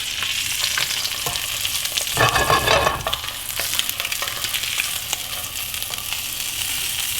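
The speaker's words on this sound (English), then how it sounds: "I just want to get a nice sear on it." Blackened salmon sears in a hot pan, a steady close crackling sizzle with a louder surge of spattering partway through and occasional sharp pops. No voices are heard.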